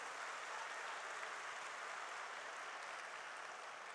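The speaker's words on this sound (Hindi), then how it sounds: "एक बार जोरदार तालियां इन बच्चों के लिए।" Audience applause for students at a valedictory and award function of a Delhi sports festival, a dense, steady wash of clapping from a large crowd, sustained without pause.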